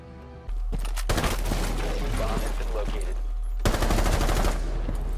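Rapid gunfire bursts from a Rainbow Six Siege match ring out loud and close in repeated volleys, with players talking over the shooting.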